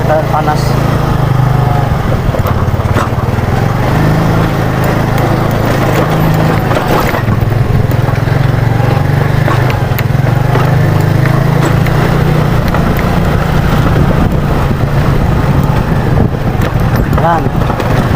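A Yamaha Mio Sporty carburetor scooter engine runs steadily to warm up, giving a loud, constant drone that carries on throughout with wind-like noise over it and no change in pace.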